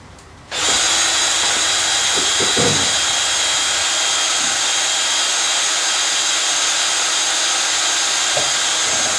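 A power drill starts abruptly and runs continuously at a high, steady whine, loud and close, with faint clunks underneath, while fitting an RV-7A aircraft windshield and canopy.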